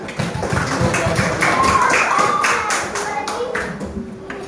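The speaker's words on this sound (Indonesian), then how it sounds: "Nanti tepuk tangan dulu." A class of fifth-grade primary schoolchildren clapping their hands in a classroom, a burst of quick, uneven claps close by, mixed with children's voices and bright shouts.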